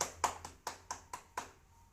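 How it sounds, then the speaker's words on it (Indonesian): Students in an Islamic history classroom clap their hands for a classmate, seven sharp, evenly spaced claps in a quick steady rhythm, close and fairly loud, with no talking over them. "Kasih tepuk tangan dulu."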